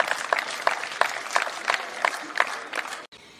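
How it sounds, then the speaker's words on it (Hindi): Rhythmic group clapping at an Independence Day celebration at a university, sharp evenly spaced claps close by, cutting off abruptly near the end. "जोरदार तालियों से स्वागत"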